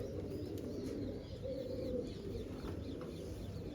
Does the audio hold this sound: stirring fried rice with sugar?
no